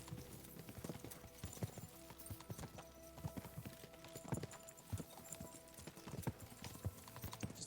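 Horse hooves clip-clop in a steady walking rhythm in the medieval video game Kingdom Come: Deliverance II, faint and continuous with no talk.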